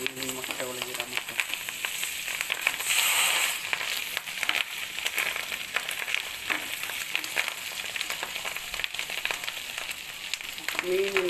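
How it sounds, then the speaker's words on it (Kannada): Fish roe fries in a pan with a soft, continuous sizzle and light crackle, moderately quiet and steady, with faint spatter bursts and a few utensil touches. "ಮೀನಿನ ಮೊಟ್ಟೆ ಫ್ರೈ ಆಗ್ತಾ ಇದೆ"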